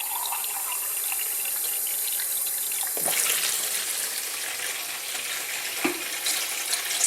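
Tap water pours into a kettle for one cup of tea, a steady splashing flow with a couple of sharp knocks or bumps partway through, fairly close and without any talking.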